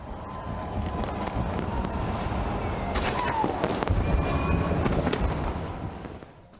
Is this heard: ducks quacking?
no